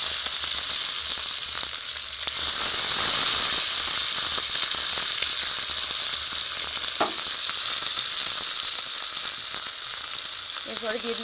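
Chopped tomato goes into a hot pan with chilli and oil for a vegetarian soybean dish. It gives a loud, close, steady sizzle that swells as the pieces land and carries on with crackling, stirring, and a brief clink near the end.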